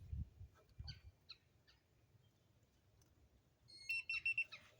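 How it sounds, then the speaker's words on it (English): Short high electronic beeps from a replacement keyless entry lock on a 2002 Keystone Mountaineer RV sound near the end, preceded by faint clicks and low handling noise at a quiet level. "You heard the beep, so the batteries are in."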